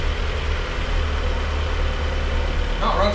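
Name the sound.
Mazda Miata engine idling after first startup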